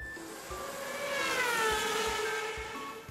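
A toy police car from an Anpanman work-vehicle toy set sounds a wailing electronic siren with rising and falling tones, moderately loud and close, alongside faint light clicks.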